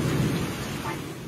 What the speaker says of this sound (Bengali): আজকে হঠাৎ করে বৃষ্টি আসলো।